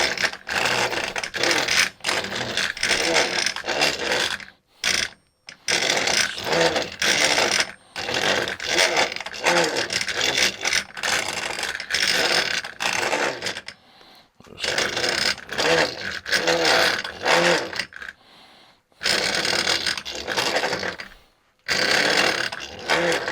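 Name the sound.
English wheel rolling and curving a metal sheet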